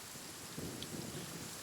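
Steady rain falls in the desert of the video game Genshin Impact, a soft continuous hiss with a faint low rumble, fairly quiet and with no voices.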